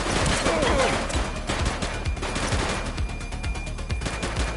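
Gunfire in The Precinct crackles in rapid, dense bursts of automatic shots that run nonstop and stay loud and close, with faint voices underneath.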